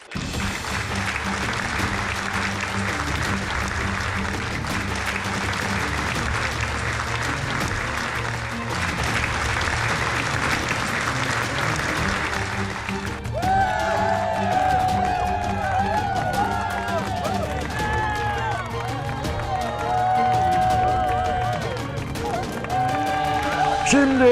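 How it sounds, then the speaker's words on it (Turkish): A live crowd at a stand-up comedy show greets a Turkish comedian with loud, sustained applause and cheering. Music plays underneath, and a voice speaks over the noise partway through. "İşte şimdi karşınızda Türkiye'nin en şakacı insanı alkışlarınızla Çetin Çiftçioğlu."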